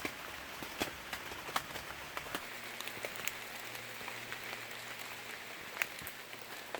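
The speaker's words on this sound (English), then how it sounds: "It's starting to rain" Light rain begins falling at an off-grid cabin shed build site, scattered raindrop taps and patters landing on surfaces at close range, with a low steady hum entering partway through and no voices.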